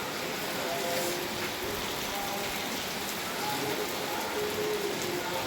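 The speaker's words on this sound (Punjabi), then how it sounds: "ਇਸ ਸਵੇਰ ਦੀ ਸ਼ੁਰੂਆਤ ਮੀਂਹ ਦੇ ਨਾਲ ਹੋ ਗਈ" Steady rain pattering on surfaces, a constant even hiss of falling drops throughout with no pauses.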